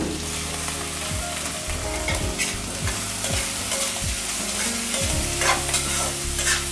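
Potatoes fry for a Maggi noodle dish in a pan on a gas stove, giving a steady loud sizzle while a utensil stirs and scrapes in regular strokes about once a second, with no voices.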